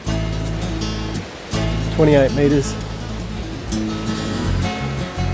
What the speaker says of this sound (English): This one here is called Thunder Falls,